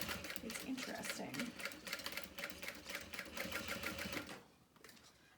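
A domestic sewing machine stitches through a fabric bag in a steady rapid run, loud and close, with a person talking over it before the motor stops and the room falls quieter near the end.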